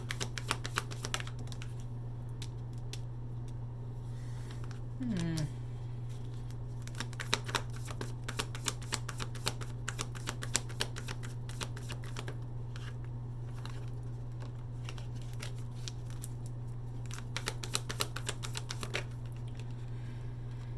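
Tarot cards are handled in a light, rapid flurry of crisp clicks and flicks during a reading, spread across the whole stretch over a low steady hum, fairly faint and close.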